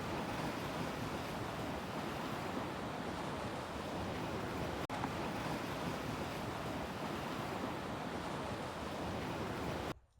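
Lake waves wash onto Edgewood Beach in Cleveland on a cold November day, a steady broadband roar of surf mixed with wind noise that goes on without a break and cuts off at the end.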